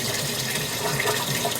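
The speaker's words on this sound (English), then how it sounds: "It's just starting to pump. In a second here, you're gonna see the water come out of that tube." Water is pushed by a pump out of a tube in an NFT hydroponic vegetable garden, giving a steady close-up gush and trickle with no talk over it.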